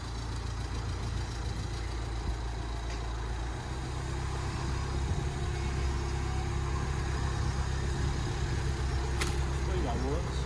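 A crash-repaired 2017 Mercedes Vito van's engine runs at a steady idle-like rumble, close and continuous, with a faint whine rising near the end as people talk nearby.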